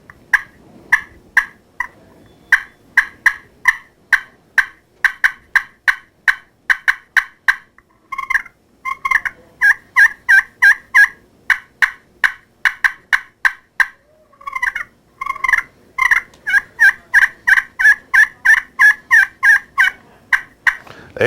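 A striker is worked on a regular slate turkey call, producing loud, close, rapid series of yelps and clucks in repeated bursts with short pauses, imitating a hen turkey.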